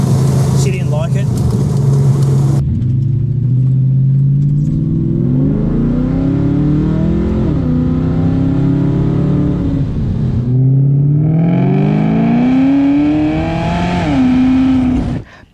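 A project car's engine revs hard through a loud, raspy exhaust, the pitch climbing and dropping in several repeated surges close by, with a brief idle near the start.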